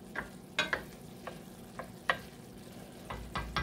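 Onion cooks in a cast iron pan, with a soft sizzle beneath intermittent scraping and stirring knocks that come every second or so, close and fairly quiet, with no speech.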